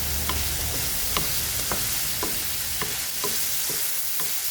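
Squid and bitter gourd cooking in a pan, a dense continuous sizzle with soft regular taps of a spatula, close and steady without speech.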